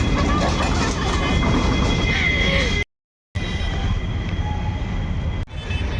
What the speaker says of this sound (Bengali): আজকে আমরা ঘুরতে এসে একটা টয় ট্রেন যাচ্ছি সামনে